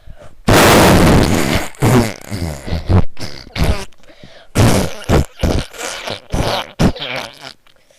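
A voice imitates farting with a string of loud, buzzy, sputtering bursts, one long blast followed by shorter irregular ones.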